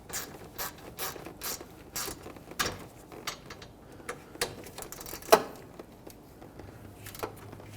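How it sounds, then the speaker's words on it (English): A ratchet snugs a high-grade bolt on an A/C condenser of a 2003-2008 Toyota Corolla, giving a series of crisp, close clicks in an irregular rhythm with short pauses between strokes. "Bottom it out, and then we'll just give it a snug with the ratchet."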